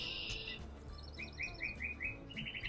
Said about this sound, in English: Oh my god, there's a bird.